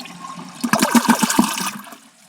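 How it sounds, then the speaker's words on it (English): A new toilet tank gives a half flush, a short gurgling rush of water lasting about a second before trailing off into a faint trickle, close and clear. "here's a half flush."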